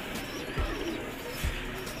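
A pigeon gives two low, muffled coos about a second apart, heard close but soft against steady background noise.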